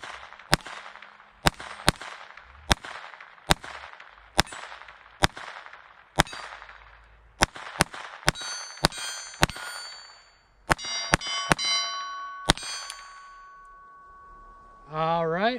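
A Taurus TX22 .22 pistol fires Federal Auto Match rounds in a string of sharp, ringing shots, steady at first and then quicker near the end, with metallic clangs trailing each report.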